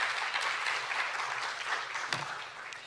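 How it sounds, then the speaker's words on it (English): An audience claps at a coast photography lecture, a steady, moderately quiet wash of applause throughout with no talking. "If you'll give them a round of applause."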